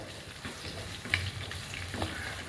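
Ingredients sautéing in a pan, a soft steady sizzle with faint stirring scrapes and a brief louder clink near the middle, all close and without talk.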